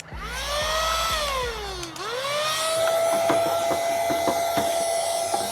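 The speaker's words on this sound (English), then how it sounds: "I think I might need a bigger vacuum" A small vacuum cleaner without its nozzle cleaning a PC motherboard, a close, loud whining motor that dips in pitch and then steadies, with faint clicks and bumps, no talk.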